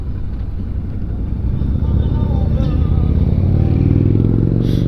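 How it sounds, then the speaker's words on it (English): Yamaha Venture motorcycles ride past on a rural road by a cow farm, a steady loud engine drone building toward the end, with a person talking over it. "Look at that, motorcycles."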